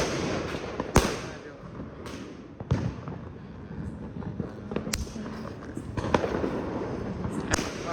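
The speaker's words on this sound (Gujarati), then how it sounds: "અત્યારે અમે લોકો આવ્યા છે સોસાયટીની બહાર ફટાકડા ફોડવા માટે" Diwali firecrackers pop and bang at irregular intervals outside a housing society, some sharp and near, others muffled, over a busy background with voices talking.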